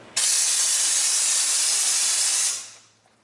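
A spray gun blasts Monstaliner bed liner at 90 psi, one steady loud hissing burst lasting about two and a half seconds, cutting in sharply and then tapering off, with no talking.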